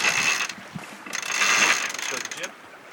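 A sailboat winch ratchets in quick clicking bursts while the jib sheet is changed over, close and fairly loud against a background of wind and water.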